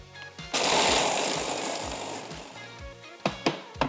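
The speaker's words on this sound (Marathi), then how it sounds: "आता हा मिक्सर मध्ये छान फिरवून घ्यायचा." A kitchen mixer grinder spins whole nutmeg, cloves and cardamom with a loud whirring roar that rises sharply, then eases into a rattling churn before a few knocks as it stops.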